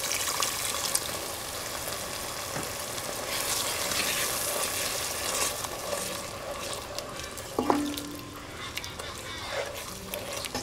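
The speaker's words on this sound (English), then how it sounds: "Now I'll mix the water for the gravy." Soft sizzling and liquid sloshing as water is stirred into malai kofta gravy in a hot pan, with light scraping and occasional clinks, fairly quiet and close.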